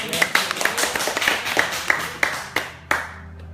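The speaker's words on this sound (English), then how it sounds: "Give her a round of applause, guys." Sparse clapping from a small audience, roughly a dozen separate sharp claps in an uneven rhythm that thins out toward the end, close and fairly loud, with no talking over it.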